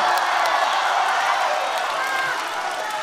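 A crosstalk comedy audience at a Deyunshe show clamors and cheers to egg a performer on, a brief burst of loud, massed voices and whoops.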